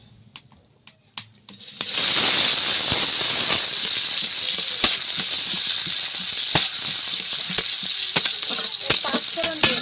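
Hot oil poured over a crab and Malabar spinach curry bursts into a loud, steady sizzling hiss after a few quiet clicks, holding close and continuous to the end.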